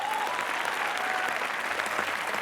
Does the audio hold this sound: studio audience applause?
yes